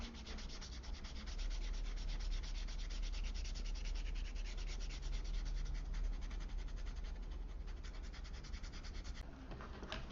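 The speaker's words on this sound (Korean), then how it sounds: "이제 측면에 이 부분을 그냥 가볍게 좀 다듬어 준다고 생각하시면 됩니다" Steady, close-up abrasive rubbing as the side edge of a leather card wallet is lightly sanded, a continuous scratchy friction lasting throughout with no talking.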